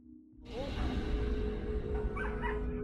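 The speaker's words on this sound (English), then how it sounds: "They're beating the dog." A dog whimpering and yelping as it is beaten, short strained cries over a rough, noisy background, with voices present.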